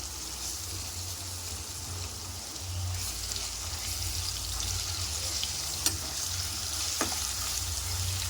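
Potato and tomato fry in a pan with a steady close sizzle, broken by a couple of faint clicks from utensils.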